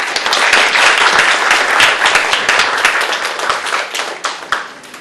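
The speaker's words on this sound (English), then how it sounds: "please help me with a big round of applause" Audience applause at a Young Climate Change Ambassadors event, a dense burst of many hands clapping that stays loud and gradually tapers over a few seconds.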